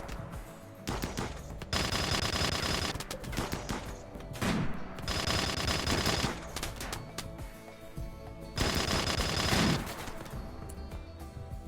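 Rapid automatic turret fire from the video game RimWorld rattles in three long sustained bursts separated by brief lulls, loud and dense throughout.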